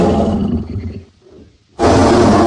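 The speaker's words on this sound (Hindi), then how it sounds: "इतने में सचमुच किसी शेर की दहाड़ सुनाई पड़ी।" A cartoon lion lets out a loud, close roar that rumbles, fades to near silence, then bursts back in full force, with no talking over it.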